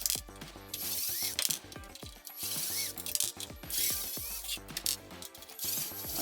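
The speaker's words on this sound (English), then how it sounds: "And these are Loctited in, so they take a little effort to get broke loose." Ratcheting hand tool working on Loctited bolts of an Arrma Talion RC car, a close series of rapid clicking pawl sweeps with brief pauses between strokes.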